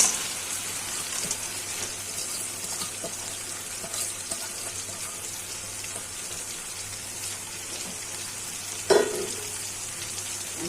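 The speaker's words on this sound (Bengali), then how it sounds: "কষানো মশলাতে ডালগুলো ছেড়ে দিচ্ছি" Masoor lentils sizzle steadily in a pan of cooked-down spice paste, a soft, continuous frying hiss with faint stirring scrapes and one brief clink near the end, no voices.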